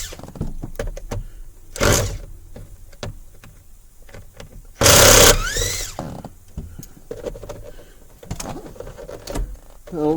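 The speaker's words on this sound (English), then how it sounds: "Also going to remove the steering column cover plastic. Going to go ahead and pull the screws out of it." Screws are backed out of the plastic steering column cover of a 2008-2017 Mitsubishi Lancer with a power driver, giving short whirring bursts, one longer loud run midway, and small clicks and handling noises between them.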